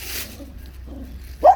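A dog gives a short, sharp bark at the end of a mostly quiet stretch, close and loud, after a brief breathy noise at the start.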